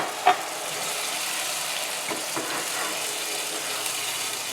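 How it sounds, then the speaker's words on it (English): Diced tomatoes and their juice go into a hot pan for a merguez tomato sauce with chicken thighs: a brief splash, then a steady, moderately loud sizzling hiss with a few faint stirring knocks. "now we're going to add some diced tomatoes with the juice"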